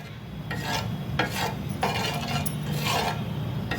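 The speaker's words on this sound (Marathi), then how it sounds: "तवा छान तापला आहे त्याच्यावर थोडंसं तेल घालून घेऊया आणि ते पसरवून घेऊया" Oil being spread across a hot, high-sided tawa before fasting thalipeeth goes on, giving a steady close scraping and rubbing with a few louder strokes and a faint low sizzle underneath.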